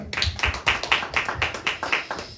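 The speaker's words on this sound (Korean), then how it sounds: "우리 하나님 앞에 영광의 박수 드리겠습니다" Church congregation at a Sunday worship service clapping in rhythm, sharp regular claps repeating at a quick steady pace for a couple of seconds, close and fairly loud with no talking over them.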